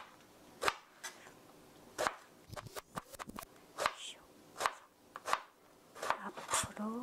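A knife slices eggplant into half-centimetre strips on a cutting board, making sharp, close thuds spaced irregularly with short pauses between cuts, under soft background sound.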